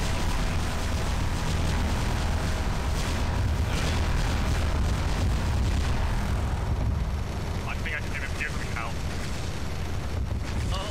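Main front laser cannon of a Warhammer 40k battleship firing in a video game, a sustained loud roaring blast that fills the whole clip, with rumbling booms and speech heard over it.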